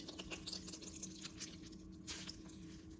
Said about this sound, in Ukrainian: Віджати воду. Ось так, віджимаю воду.